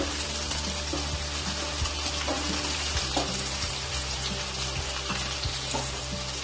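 Sliced onions fry in hot oil for Bengali mutton kosha, a continuous bright sizzle punctuated by occasional scraping and stirring knocks against the pan, with no talk.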